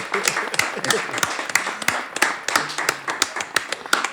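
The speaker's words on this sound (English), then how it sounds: "The guys at the back, can we give it a round of applause?" A studio audience at a talk show claps for a guest, a thin run of scattered, fairly close hand claps with a loose rhythm that continues steadily throughout.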